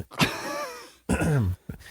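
A hoarse, throaty cough sounds twice in close succession, followed by a short catch of breath, near and alone.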